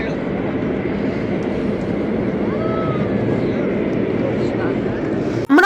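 A motor boat engine drones steadily on the river at Triveni Sangam in Prayagraj, a close, even, continuous hum with no breaks.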